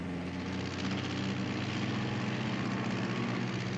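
Droning propeller airplane engine passing overhead as a sound effect in a radio dramatization of The 39 Steps, a steady, loud, continuous hum with no voices.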